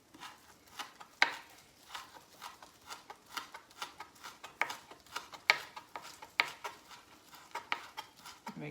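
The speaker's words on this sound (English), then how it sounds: "I'm just gonna chop them up one more time just to make sure" A knife chops onions on a board in a home kitchen, making a steady run of crisp, close taps at an irregular brisk rhythm, with no talking.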